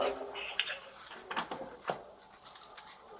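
Keys jangling at an apartment door while unlocking it: faint metallic rattles and clinks in irregular bursts, with a sharper knock partway through, heard at a moderate distance in a quiet hallway.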